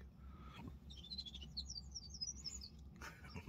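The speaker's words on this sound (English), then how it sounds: "Bird right behind me." A small bird chirps behind a deer hunter in the Wisconsin woods during deer season: a quick series of high, faint chirps over a low, steady wind rumble.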